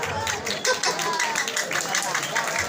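Audience clapping at a comic calonarang performance at Pura Penataran Penglumbaran in Bali, dense and steady for a few seconds over a crowd's noise.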